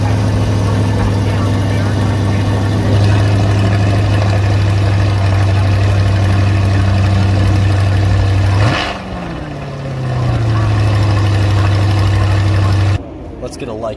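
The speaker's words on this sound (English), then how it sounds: "a clip that we got from this morning of the C8 starting up" A 2020 Corvette C8 engine fires up with a sharp rev that settles into a steady, deep idle, loud and close, before cutting off near the end.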